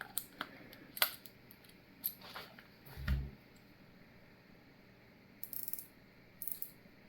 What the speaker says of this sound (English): Good clicks on the screw.